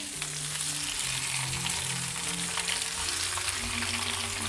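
Pieces of tofu fry in a pan for Vietnamese-style fried tofu, a dense, even sizzle and crackle of hot oil held close and steady throughout, with faint clinks from the pan and no talking.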